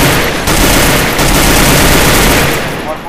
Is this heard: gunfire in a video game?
yes